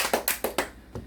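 A handful of separate claps ring out in quick succession from a congregation at a small Korean church's Sunday worship service, fading after about a second.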